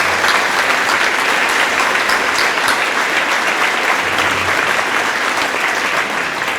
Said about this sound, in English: let's give our entire coaching staff a round of applause